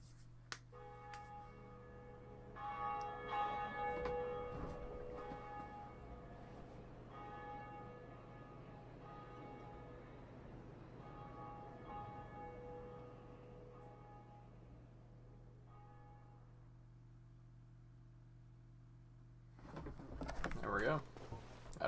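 A bell tolls in the dark fantasy game Dark Souls, ringing in slow, spaced, resonant strikes over a low steady hum, with a brief burst of louder clatter near the end.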